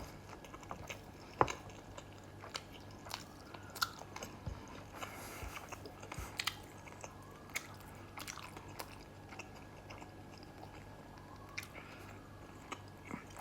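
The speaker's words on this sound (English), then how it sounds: "Crispy bacon." Someone eating crispy bacon at home, with close, irregular crunching bites and chewing repeated throughout, fairly quiet against a faint steady hum, no talking.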